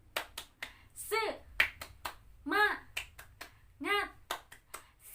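Children in an elementary classroom doing a rhythmic spirit clap, with sharp claps and snaps in short patterns alternating with an adult voice and chanted words, fairly quiet and close.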